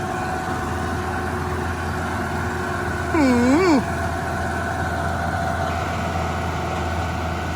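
An Iseki NT554 tractor engine idles steadily and evenly throughout, with a brief rising and falling tonal sweep in the middle.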